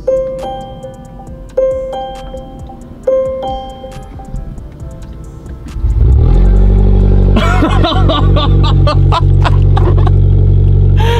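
Chimes ding a few times, then a car engine with its exhaust fully detached roars to life loudly and harshly, rumbling and revving raw and unmuffled close by.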